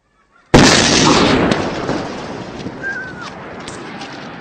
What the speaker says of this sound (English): the Islamic State dynamites several major cultural and religious sites around the city